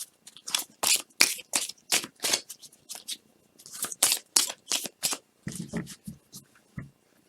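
Tarot cards shuffled and drawn for a Capricorn November reading, a close run of crisp riffling, flicking and sliding bursts of card stock, irregular in rhythm, with no talk over them.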